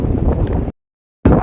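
Cold wind buffets the microphone at a seashore, a steady low roar that cuts out briefly and then returns just as strongly, with no voices.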